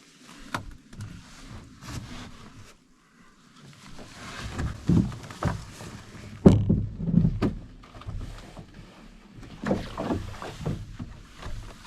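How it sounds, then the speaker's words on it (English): Canoe paddle strokes on a lake in Algonquin Park, with irregular splashes and knocks against the hull, louder bursts around the middle and near the end, fairly close, with no talk. "then little paddle into Little Otter Slide"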